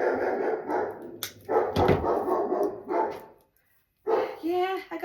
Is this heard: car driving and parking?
no